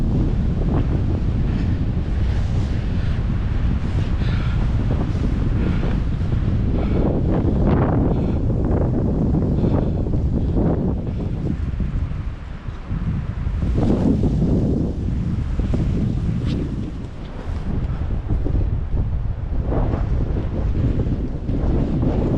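Strong gusty wind hits a hilltop at Walltown Crags on Hadrian's Wall, heard as loud, continuous buffeting rumble against the microphone that surges and eases with the gusts.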